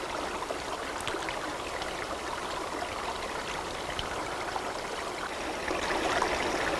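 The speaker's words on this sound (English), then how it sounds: "The sound of water everywhere." A forest stream flowing steadily among ferns and young Douglas firs, a constant close rush and trickle of water with no voices.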